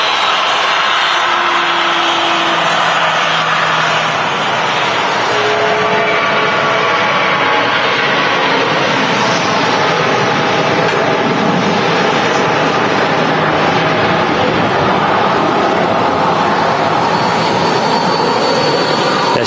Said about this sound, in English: Jet2 A380 on the taxi out